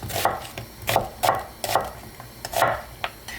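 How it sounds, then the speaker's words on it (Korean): Knife slicing an onion thinly on a cutting board, a series of distinct, crisp strikes at an uneven rhythm, close and fairly loud with no talking. "슬라이스로 잘라주세요"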